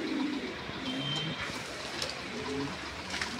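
Black Lahori pigeons coo softly in a pair of low, brief calls, nearby, over steady background noise, with no talk.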